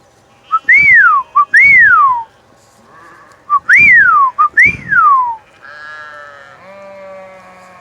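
Several loud rising-and-falling whistled notes in quick pairs, repeated twice, then sheep bleating nearby after the whistles, near Dogtown Lake.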